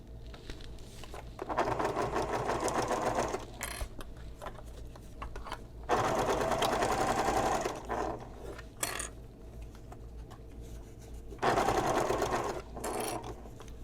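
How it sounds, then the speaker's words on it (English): A sewing machine stitches a messenger bag in three steady runs of rapid mechanical whirring, separated by short pauses and faint handling sounds, close and clear with no talking. "And I start sewing over my mark right here."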